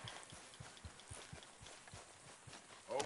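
Horse hooves clip-clop in a Red Dead Redemption 2 western setting, a quiet, regular series of about a dozen soft thuds at a steady walking pace, ending with a brief louder knock.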